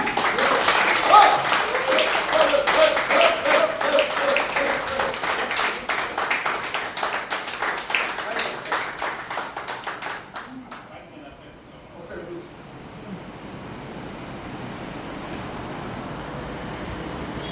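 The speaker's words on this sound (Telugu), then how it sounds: "మనందరూ సాధించి బిగ్ క్లాప్స్ ఇద్దాం" An audience claps for Sirisha in a big round of applause. Dense, rapid clapping fills the first ten seconds, then fades into quieter room ambience.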